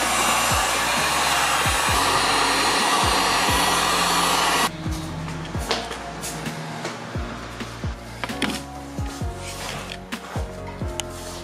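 A heat gun post-heating vinyl wrap on the roof of a 2021 Supra blows a loud, steady whoosh for about five seconds, then cuts off, leaving quieter shuffling and low repeated thumps.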